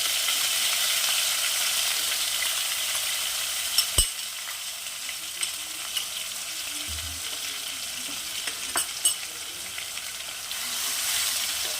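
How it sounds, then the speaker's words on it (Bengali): Onion paste with a pinch of five-spice frying in a pan for an aar fish dish gives a soft, steady sizzle, broken by a few sharp utensil clicks and stirring scrapes, with no talking. "এবারে এটা একটু ভাজা ভাজা করে নেব।"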